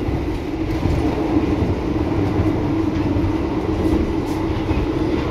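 Inside a moving Lodaya passenger train, a steady low rumble and rolling rattle of the carriage fill the space, constant and close, with faint clicks of the wheels over the track.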